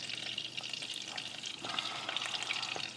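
Cheese gets stirred into hot grits in a pot, giving a quiet bubbling and sizzling texture with soft spoon scrapes and small splats, close and unbroken by speech.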